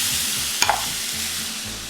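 Onions with red and green peppers sautéing in olive oil in a frying pan, a loud steady sizzle with a brief scrape of stirring partway through.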